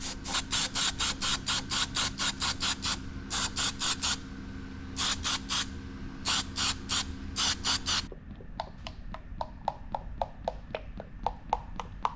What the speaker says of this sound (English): so just going to hit it with this black zinc